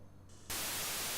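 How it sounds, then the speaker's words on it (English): Very fast white noise from the sound chip of an Elan Enterprise computer: after a faint hum a loud, steady hiss switches on abruptly and holds evenly to the end. "And we're pretty much back to our white noise there."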